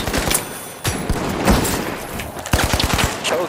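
Rapid bursts of gunfire in the shooter game The Finals, several sharp cracks and rattling volleys in quick succession, loud and close, with brief gaps between bursts.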